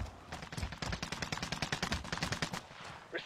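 Rapid automatic gunfire from the Call of Duty Warzone video game, a dense burst of close, loud shots lasting about three seconds with no talking.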